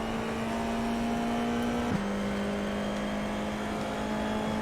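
Formula F4 race car engine in iRacing at Monza, a sustained steady drone held at a constant pitch with a brief dip midway, heard continuously as if from the cockpit, with no talking.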